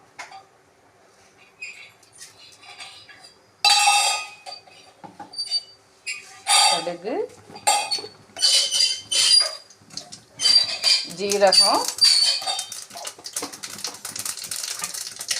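Mustard seeds and cumin crackle and spit in hot coconut oil in a pan, with sparse pops at first, then denser bursts of sizzling, popping patter close by.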